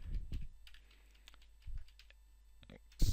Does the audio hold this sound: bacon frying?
no